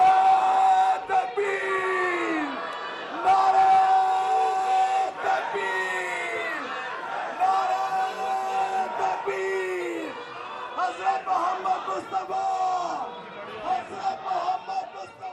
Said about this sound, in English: To the delight of the crowd, Huzoor, may Allah be his helper, came out t